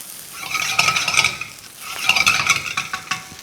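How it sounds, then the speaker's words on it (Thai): Black olive fried rice with cooked rice, light soy sauce, sugar and black pepper being stir-fried in a pan, with two bursts of scraping and clinking utensil strokes over a steady close sizzle. "ผัดทุกอย่างให้เข้ากันดีครับ"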